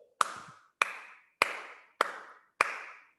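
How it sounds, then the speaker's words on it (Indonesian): Kindergarten children clap their hands five times in unison, each clap a sharp, crisp strike evenly spaced about half a second apart. The claps are heard alone, with no talking. "Tepuk 5 kali."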